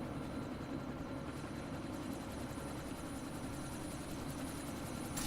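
Helicopter in the video game Deus Ex: Mankind Divided, a steady rotor and engine drone preparing to take off, loud and continuous throughout with no talking.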